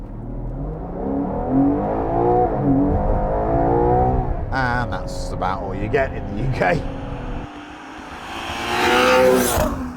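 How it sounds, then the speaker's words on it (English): A Ferrari Purosangue's V12 engine revs and accelerates hard from a standing start with rising pitch, loud and steady, while someone talks over it. "There is nothing like this engine."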